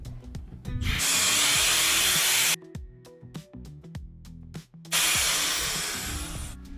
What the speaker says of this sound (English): Take a drill, center it, spins, take it off.